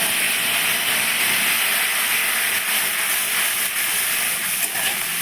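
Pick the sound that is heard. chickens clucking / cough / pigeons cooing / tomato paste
tomato paste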